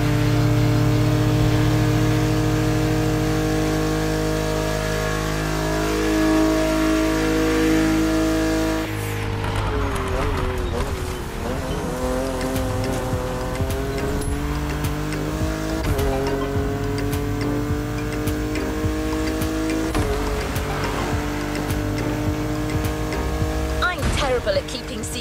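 A Porsche 911 engine in The Crew Motorfest racing game revs and surges over background music, the tone rising and falling through gear changes with a loud, steady presence across the whole stretch.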